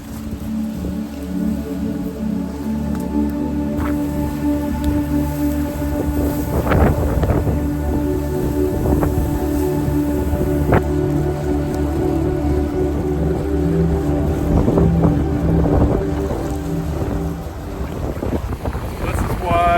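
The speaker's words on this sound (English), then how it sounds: "You can really feel the wind cutting through off the lake over here." Strong wind off a lake buffets the microphone in heavy, rumbling gusts that run through the whole stretch, with thumps and rustles near the mic and no clear speech.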